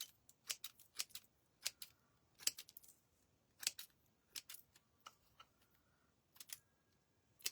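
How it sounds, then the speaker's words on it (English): Scissors snip through thin tissue paper in a string of faint, sharp, irregular clicks, some coming in quick pairs, against a quiet background with no speech. "let me just trim some of this"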